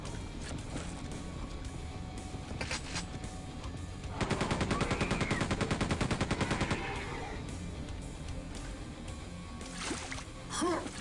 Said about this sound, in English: Super Sailor Shotgun.